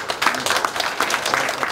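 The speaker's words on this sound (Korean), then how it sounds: "자치회 위원들에게 힘찬 응원의 박수를 부탁드립니다." Brief burst of audience applause at a Gurae-dong residents' general assembly, scattered clapping from a seated crowd over under two seconds, fairly steady and moderately loud.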